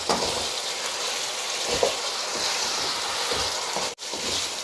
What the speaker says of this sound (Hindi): दो से 3 मिनट इसको मैं इसमें भूनूंगा ताकि मसाले सारे मिक्स हो जाएं इसमें